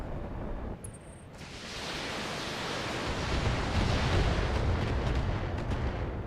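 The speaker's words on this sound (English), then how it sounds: "Ammo explosion." Ammo explosion in the video game BattleTech: a loud, roaring blast that starts after a brief quieter moment, then swells into a sustained rumbling, crackling wash that keeps building, with no talk.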